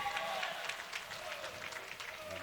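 Crowd at a boys high school swim and dive meet cheering and applauding on a swimmer near the end of a race, a steady dense roar of voices and clapping throughout.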